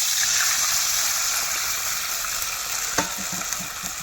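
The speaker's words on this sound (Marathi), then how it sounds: "आता लगेच मी पाणी टाकून देते" Water poured into a hot tempering of cumin seeds, curry leaves and green chilli, cooking over a wood-fired stove while making dhokla; a steady loud hiss and sizzle fills the whole stretch, with a few soft clinks near the end.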